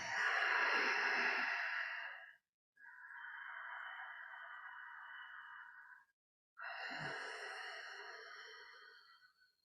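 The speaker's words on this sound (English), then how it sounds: "Breathing." Slow, deep breathing during a yoga practice: three long, airy breaths, each lasting a few seconds with brief silent pauses between, close to the microphone.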